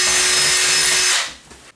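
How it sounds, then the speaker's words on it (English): A power drill whines steadily as it bores into a wall, then cuts off abruptly after about a second, leaving a brief scrape. "mark where we need to drill our hole and then drill your hole"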